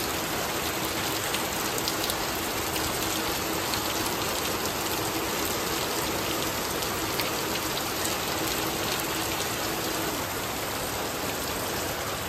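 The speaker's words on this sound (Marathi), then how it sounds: "आमच्या इकडे बेकार पाऊस पडतो" Heavy monsoon rain pours down steadily in a Maharashtra village, a dense, even hiss of water drumming on surfaces close by, with no voices over it.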